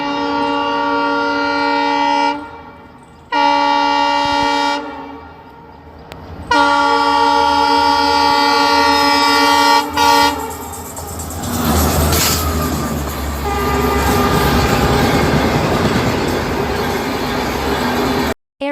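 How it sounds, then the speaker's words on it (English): A train rumbles past while its horn sounds in several long, loud, sustained blasts separated by short gaps, followed by rushing wheel and carriage noise as it goes by, with no voices. "Train."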